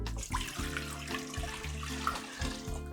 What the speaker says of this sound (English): All right, so we're gonna add some water to that.